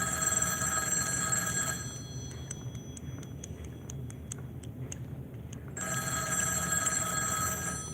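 A telephone rings with an incoming call, sounding as a bright, steady electronic ring before and after a quieter stretch of rapid ticking, over a constant low background hum with no speech.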